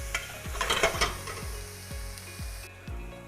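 Beef stroganoff simmering and sizzling in a pan while a metal spatula scrapes and stirs with a steady rhythm of repeated strokes, close and moderately quiet.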